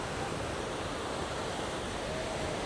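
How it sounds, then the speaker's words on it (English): Steady broadband wash of gentle surf on a quiet beach in Da Nang, with low waves rolling in continuously and no distinct breaks, heard alone at a moderate distance. "Some waves, not too high."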